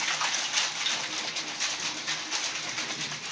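An Ice Cream Magic ice cream maker is shaken hard by hand, giving a continuous, even rattle and swish of its contents that stays fairly quiet and steady, with no talk over it.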